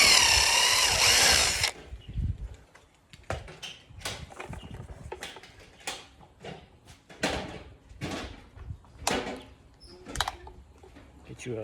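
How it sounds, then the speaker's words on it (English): A small drill bit bores out two melted plastic tabs on a Toyota FJ Cruiser airbox, heard as a loud burst of drilling followed by short scraping and knocking handling sounds at close range. "Drill out those little melted spots."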